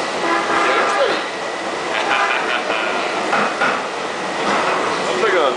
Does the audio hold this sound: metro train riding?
yes